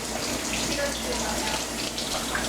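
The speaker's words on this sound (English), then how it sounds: "Wash your celery." Celery is washed under a running kitchen tap, a steady close rush of water splashing without pause.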